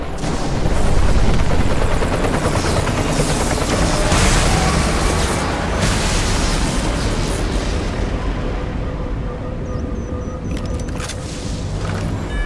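Helicopters in the Redfall game make a dense, loud, continuous roar with heavy rumbling and crackling layered throughout, staying close and sustained with no clear voices on top.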